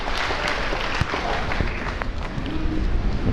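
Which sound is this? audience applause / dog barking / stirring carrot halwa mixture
audience applause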